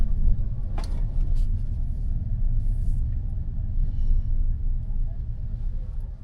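A Tesla Cybertruck reverses slowly into a spot at an overhead charger, a steady low rumble of tires and motion dominating, with a brief faint click or knock near the start.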